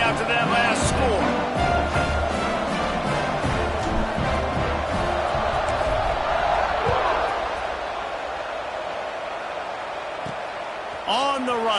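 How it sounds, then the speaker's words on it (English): Stadium crowd in NCAA Football 26 at a Michigan State Spartans versus Colorado Buffaloes game, a dense continuous roar of thousands of fans, loud and steady throughout with slight easing near the end. "this crowd is buzzing after that last score"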